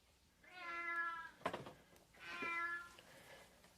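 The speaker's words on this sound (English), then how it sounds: "the cat was no longer just meowing, it was yowling." Two drawn-out, plaintive cat meows, clear and fairly close, separated by a brief clattering noise.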